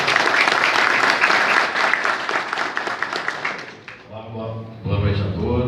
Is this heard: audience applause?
yes